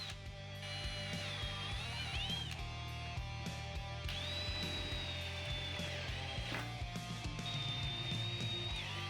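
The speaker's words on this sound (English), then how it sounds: "we found it helpful to pre-drill these locations" A power drill pre-drills screw holes for an aluminum bolt-on Vantech H2.1 cargo rack on a work van, with a steady whine rising and falling in several bursts over a constant background hum.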